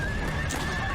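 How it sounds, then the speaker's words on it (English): A horse in Assassin's Creed Brotherhood gives a loud, close whinny after being shot, one brief shrill neigh with a faint clatter beneath. "Shoots the lead horse and takes out the back horse."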